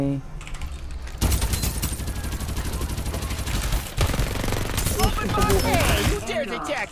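Rapid bursts of automatic gunfire from the Farlight 84 shooter game ring out loud and dense, rattling continuously for several seconds alongside clicking keys, with players' voices partly underneath.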